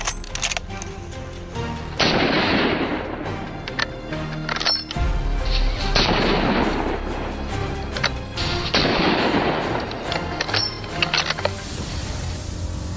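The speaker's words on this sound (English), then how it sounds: "But 2 more thunderous shots follow quickly, extinguishing all hope." Gunshots on a wild boar hunt across hilly farmland, several loud sharp blasts a few seconds apart, each echoing over a dense backdrop of background music.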